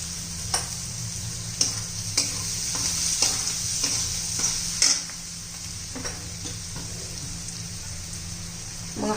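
Chopped onion fries in a pan while turmeric is stirred in, a steady sizzle with repeated spoon scrapes and taps against the pan throughout.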